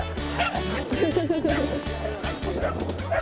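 Corgis at a large corgi festival dog run bark in quick yapping bursts, several sharp yips close by over a busy outdoor background with people's voices mixed in.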